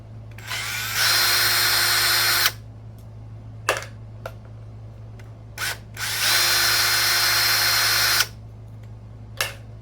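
A power driver whirs in two sustained bursts of about a second and a half and two seconds, removing screws from the rear hinge pin brace of a Kraton 6S RC car, with small clicks and taps between, close up and without talk.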